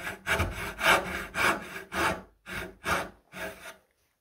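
A handmade dovetail saw cuts into wood in eight steady back-and-forth strokes, each a rasping pulse, close up and fairly loud, ending abruptly in silence.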